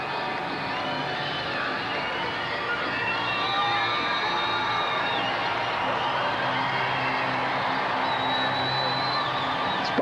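Stadium crowd at a 1990 Seattle supercross race roaring and cheering continuously, with scattered whoops and whistles rising above a broad, sustained din.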